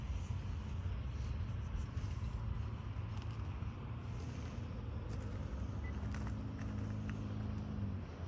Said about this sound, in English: Seems like the traffic comes in waves.